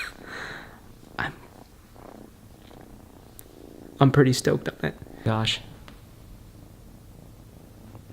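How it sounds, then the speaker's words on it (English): A new, affectionate kitty purrs softly and steadily close by while someone speaks quietly over it in a home during nap time. "We got a new kitty for Christmas. And he's very affectionate."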